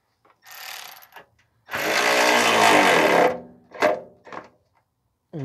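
A ratchet tightens a nut on the front exhaust heat shield of a 2009-2013 Toyota Corolla, heard as short clicking bursts with one long continuous run of ratcheting, close and loud between pauses.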